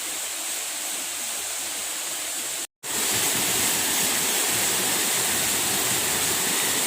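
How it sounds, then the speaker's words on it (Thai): Sapan waterfall in Nan province roars with a steady, loud, broadband rush of falling water, close by and unbroken except for a momentary cut. "น้ำตกสปันนะคะ น้ำตกสปัน"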